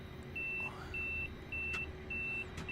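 Warning beep in a train cab in Train Simulator Classic, a steady high tone repeating in regular pulses of about a third of a second over a low, constant engine hum.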